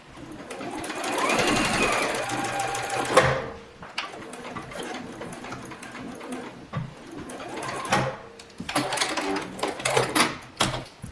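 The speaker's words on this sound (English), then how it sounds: "I'm going to take my stitch to the end of that white flannel, do a back stitch and then a forward stitch" A sewing machine stitching white flannel, running in several bursts with pauses between them for the back and forward stitches, close and whirring, with faint bird coos in the background.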